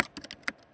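Several quick, close clicks of keys pressed on a computer keyboard in Microsoft Word, typed as a Ctrl shortcut in a short burst.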